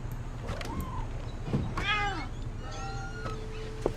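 A cat meows several times in the video game What Remains of Edith Finch, rising and falling cries over a low steady hum of game ambience, with one short squeaky chirp near the end.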